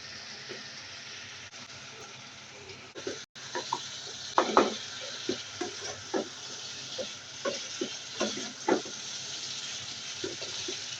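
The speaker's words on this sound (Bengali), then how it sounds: "এখন আমি মাংসটা দিয়ে দেব।" Meat goes into a pan with green chilli, ground chilli, coriander and cumin powder, giving a quiet sizzle with a run of scraping stirs and clinks that come close together from about three seconds onward. There is no talk.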